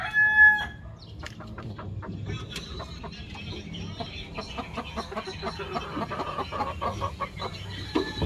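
Chickens cluck busily and steadily nearby, with a rooster crowing at the start; farmyard bird calls continue throughout.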